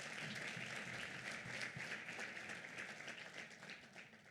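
An audience at a women in financial services study launch in Rwanda applauds, a dense, steady wash of many hands clapping at moderate distance that carries evenly through the moment without any speech.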